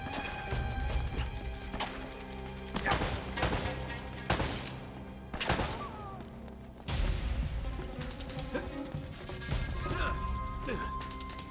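Gunfire in the Uncharted: The Nathan Drake Collection video game: several loud, sharp shots and bursts go off in clusters with crashing impacts, and speech runs underneath.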